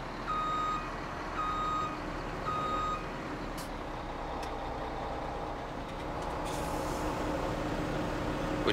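Repeating reversing beeps sound in three evenly spaced bursts over the steady drone of a truck engine in Farming Simulator 17, then the engine idles on alone with a slight rise near the end.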